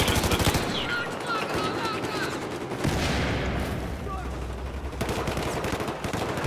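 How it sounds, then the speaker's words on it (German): Rapid automatic gunfire from the video game Battlefield 4 crackles in dense repeated bursts, with shots near and farther off, while players talk over the firefight. "Ich höre Schüsse"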